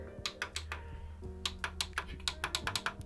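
Clacky front-panel buttons on a PC case with magnetic side panels are pressed repeatedly, giving a close, crisp run of about a dozen sharp plastic clicks in an uneven rhythm, with no talking.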